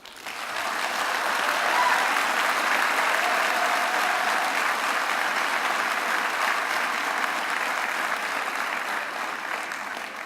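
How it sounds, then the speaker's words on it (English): An audience at a college convocation breaks into applause, a sustained dense roar of clapping that swells quickly and holds steady for about ten seconds. "So now give a round of applause to everyone who helped get you to this moment."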